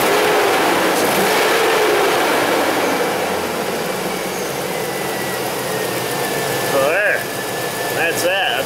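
A GM car engine runs at a loud, steady idle throughout, close by, a constant rumbling drone with faint voices at times.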